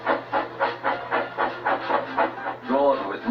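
A steam train chuffs in a steady rhythmic beat, each puff a breathy hiss, ending with a brief whistle-like tone close by.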